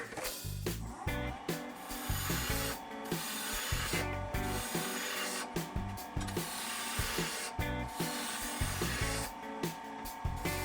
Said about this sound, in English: I'm going to use my spindle roughing gouge to take out a lot of this